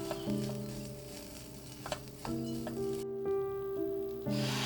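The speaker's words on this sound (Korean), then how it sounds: "솥에 들기름을 두르고 쌀을 볶아주다가" Rice stir-fried in perilla oil in a pot gives a soft steady sizzle with light stirring scrapes, under a continuous background hum with steady tones, close and quiet.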